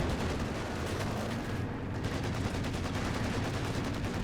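PTRS anti-tank rifle fire during a Company of Heroes 2 match, heard as dense, continuous battle gunfire with sharp reports blending into a loud, steady wash of combat noise.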